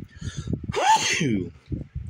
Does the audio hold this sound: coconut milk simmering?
no